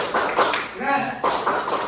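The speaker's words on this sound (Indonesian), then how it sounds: "Yuk, tepuk semangat." A group claps out the rhythmic Indonesian 'tepuk semangat' cheer during a religious education class, a quick run of sharp, close claps broken by a shouted voice in the middle before the clapping resumes.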